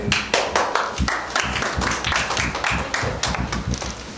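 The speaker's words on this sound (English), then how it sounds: "So give it an applause." Audience applause at a continuing training event in Shanghai, a lively burst of hand clapping with distinct sharp claps, close and steady for the whole stretch, without talk over it.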